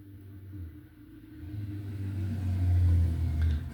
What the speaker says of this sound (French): Alors vous risquez d'entendre un petit peu la circulation. La fenêtre est ouverte.